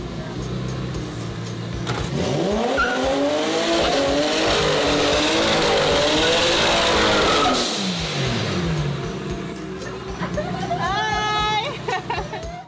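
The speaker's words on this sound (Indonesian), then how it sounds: "pengen dengar langsung gimana suaranya mobil drift" A drift car revs hard at close range, its engine note sweeping up and then falling away as the tires squeal and skid, with a crowd chattering in the background.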